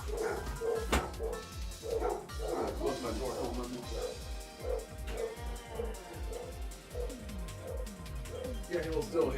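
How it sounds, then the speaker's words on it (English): A dog barks repeatedly in short, yappy bursts with some whimpering in between, at moderate volume throughout against a steady musical background. "If you hear the barking, that means someone is here."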